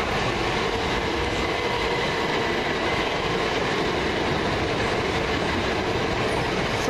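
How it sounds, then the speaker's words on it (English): A Govia Thameslink Bedford to Brighton service formed of class 377 units 377517 and 377519 at Farringdon, heard as a dense, steady rolling roar of wheels and motors that fills the whole stretch. "1729 Govia Thameslink service from Bedford to Brighton."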